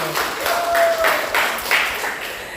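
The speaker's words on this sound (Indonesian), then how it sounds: "Kita tepuk tangan dulu untuk kalian." A short burst of classroom clapping, moderately loud and close, with a voice briefly audible over it.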